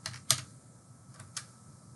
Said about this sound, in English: we would type restaurants